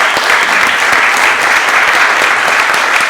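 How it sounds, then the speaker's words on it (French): Loud, dense audience applause for the speakers at the close of a business conference debate at the Institut de France, steady sustained clapping with no talk over it. "Je vous demande de bien vouloir applaudir tous nos intervenants"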